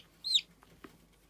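A high, bright peep from a newly hatched chick rings out once near the start, followed by a couple of faint soft taps in an otherwise quiet space.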